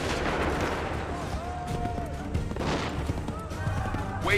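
Musket volleys crack out in a battle scene from Assassin's Creed III, dense booming gunfire under shouted commands and battlefield noise, with voices calling out over the din.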